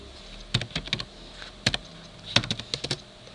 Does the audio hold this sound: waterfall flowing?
no